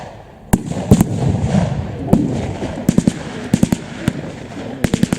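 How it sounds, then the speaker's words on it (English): Mortar fire pyrotechnics at a WW2 battle reenactment at Fortress Wales, heard as a string of sharp, loud blasts and cracks, some in quick clusters, over a steady outdoor rumble. "Now it looks as if the German mortar troops are opening up."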